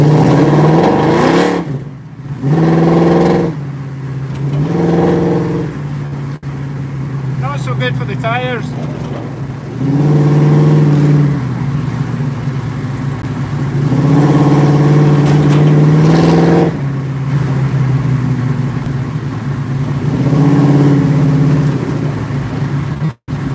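A car engine revs repeatedly in cold weather, climbing in pitch and dropping back several times, loud and close, with a steady low rumble between bursts.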